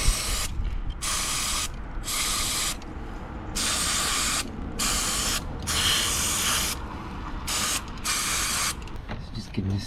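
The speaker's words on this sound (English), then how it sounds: "I've just sprayed the inside, so that should be all good to go." Cleaner sprayed in repeated short bursts onto the MAF sensor of an Alfa, close and loud hissing blasts separated by brief gaps.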